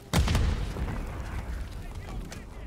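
A sharp gunshot from Call of Duty: Modern Warfare 3 cracks out close and loud, followed by a lingering rumbling echo and faint further pops, with a voice talking underneath.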